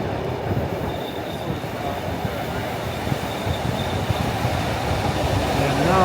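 The Bernina Express rolls into St Moritz with steady rumbling wheels on rails and faint squealing, heard from inside a carriage with a voice in the background.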